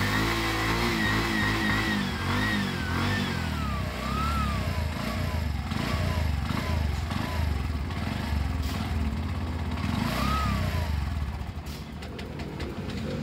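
A Bajaj motorcycle engine with a faulty idle revs repeatedly up and down at close range, pitch rising and falling over a steady idle, with no one speaking.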